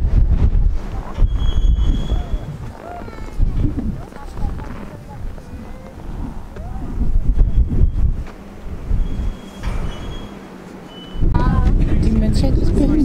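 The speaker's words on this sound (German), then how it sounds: "Hört ihr, wie das pfeift? Das ist der Wind." Strong storm wind gusts roar and buffet the microphone on the Hafelekarspitze above Innsbruck in winter, with thin whistling tones above the rumble and a voice talking at times.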